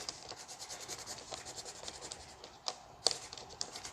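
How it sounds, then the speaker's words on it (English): A pencil is rubbed back and forth over an existing pencil line, giving faint, close, rhythmic scratchy strokes with a few sharper ticks, alone without talk. "You just take your pencil, and by simply coloring over top the pencil line that you took"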